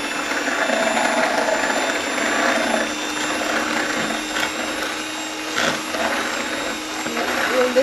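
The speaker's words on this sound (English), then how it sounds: "now I'm going to whisk it for about 2 to 3 minutes" An electric mixer whisks cookie batter for chocolate chip cookies, giving a steady, loud whirring drone that runs unbroken throughout with slight rises and dips in intensity.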